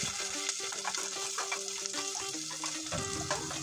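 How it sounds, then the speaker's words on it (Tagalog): Garlic, onion and ginger sauté in a pan for a beef tripe dish, a continuous busy sizzle with scattered crackles and a stirring scrape near the end, and no talking. "igisa lang muna natin yung ating bawang, sibuyas, at luya."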